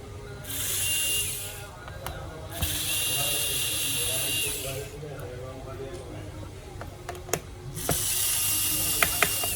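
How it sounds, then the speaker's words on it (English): Repeated ratcheting buzz of a small electric screwdriver removing screws from the back of an Acer Aspire N17C4 laptop, several whirring bursts with pauses and clicks between, under a man's ongoing speech. "Make sure you take out all the screw. Don't leave anyone. There are so many screws at the back of the laptop."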